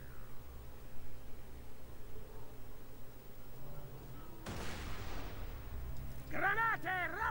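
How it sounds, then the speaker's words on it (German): A grenade is thrown and bursts in Borderlands 2, a sudden loud blast at the midpoint that fades into crackling noise, followed near the end by warbling game effects, all over a low background rumble. "Ach komm, dann schmeiß ich da eine Granate rein."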